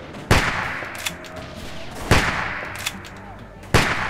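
Gunshots fired at zombies in The Walking Dead video game: three loud, sharp reports spaced about two seconds apart, each with a short tail, plus a couple of fainter pops between them over a steady game background.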